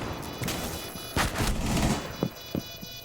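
Gunshots fired through a wall in a shooter video game, a few sharp cracks and thuds spaced out over a couple of seconds amid game noise.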